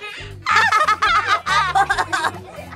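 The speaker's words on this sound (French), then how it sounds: "Monsieur Poroloro appuie sur le klaxon qui fit suivi d'un bruit de canard enrhumé" A bus's nasal, honking horn blares in a series of short, quacking bursts, loud and close, like a hoarse duck.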